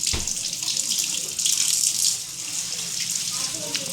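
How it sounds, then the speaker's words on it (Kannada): Two raw mangoes being washed under a running tap at a sink, a steady close splashing rush of water with brief changes as the fruit is turned in the stream. "ಫಸ್ಟು 2 ಮಾವಿನಕಾಯಿ ತಗೊಳ್ಳಿ, ಚೆನ್ನಾಗಿ ತೊಳ್ಕೊಳ್ಳಿ."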